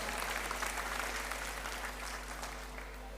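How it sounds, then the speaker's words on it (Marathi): Loud, sustained applause from a large audience at an outdoor political rally in Mangaon, Raigad, steady clapping filling the whole stretch without a break. "जोरदार टाळ्या होऊन जाऊ द्या"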